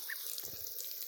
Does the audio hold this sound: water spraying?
yes